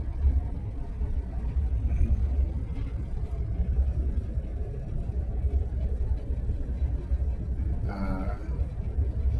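The ship Ocean Orion's engines and bow thruster run during a shifting operation, producing a steady, deep rumbling drone that holds throughout, with a brief faint tonal whine near the end.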